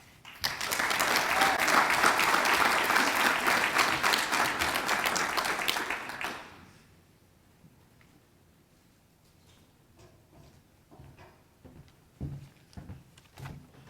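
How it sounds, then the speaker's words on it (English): A crowd at a Hall of Fame induction ceremony claps loudly for about six seconds, then the applause fades into quiet room noise with a few scattered knocks and sounds. "give everybody one more round of applause for our honorees this morning"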